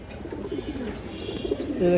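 Large pigeons coo softly and repeatedly nearby in a loft, low throaty calls that swell toward the end, with faint chirps and background noise.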